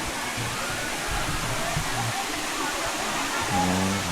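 Erawan waterfall pours with a steady, dense roar of rushing water close by, masking much of what is around it, and faint voices sit underneath.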